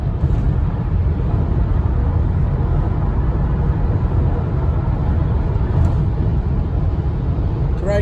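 A Honda Odyssey minivan cruises the highway at about 60 miles an hour on new Michelin tires, giving a steady, even interior road rumble and tire hum throughout.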